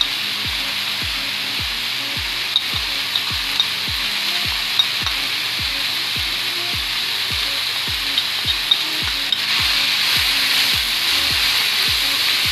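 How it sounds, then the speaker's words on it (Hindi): Green chilli, coriander and spices fry in a pan for an omelette, a continuous close sizzle punctuated by a regular series of soft tapping stirring strokes. "अब इन सबको भी मैं तकरीबन 2 मिनट तक फ्राई करूंगी"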